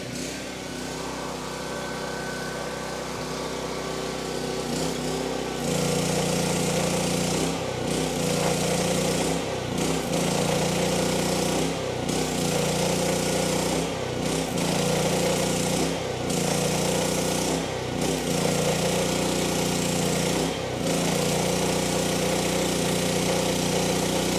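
A home generator being started and left running, a low engine drone that rises after a few seconds and settles into a steady, loud chugging idle with slight periodic dips, no voices.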